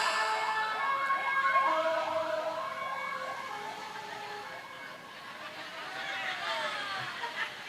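A voice imitates an ambulance siren during a humorous Sundanese religious sermon, producing repeated rising and falling wails that sound close and fairly loud, with audience noise beneath.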